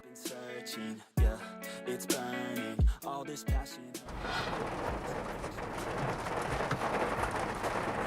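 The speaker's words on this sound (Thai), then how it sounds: "อาจจะมีฝนบ้างก็ไม่เป็นไร" Rain around a Nissan Almera 1.0 Turbo car begins partway through, a steady dense hiss of falling drops after several sharp knocks and tonal in-car sounds at the start.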